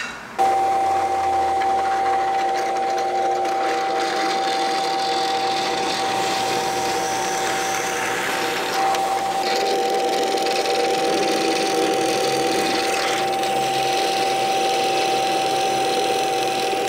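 A power drill whines continuously at close range, a steady high motor hum with slight shifts in load as it bores through Chevrolet Chevette car body metal.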